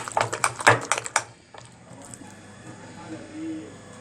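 Eggs are stirred together in a bowl, a run of quick close clicking and sloshing strokes for about a second and a half, then faint background noise.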